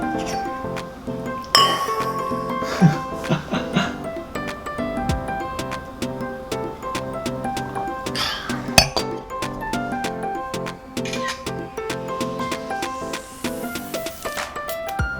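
Glasses clink together in a toast during a home meal of steak, a series of bright, ringing chinks with lingering resonance, repeated over several seconds amid faint table sounds.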